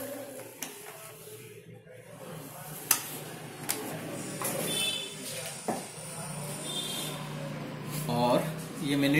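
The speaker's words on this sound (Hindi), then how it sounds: "और ये प्रिंटर रेडी हो रहा है।" An Epson L-series inkjet printer readies itself to print, giving off intermittent mechanical whirring and a few sharp clicks over a steady hum, with a voice talking over it throughout.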